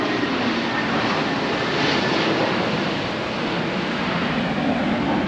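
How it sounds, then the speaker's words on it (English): An airplane passes overhead outdoors on a warm autumn day, a steady broad roar holding constant throughout, heard from the ground near a hunting blind. "There's a plane going over top."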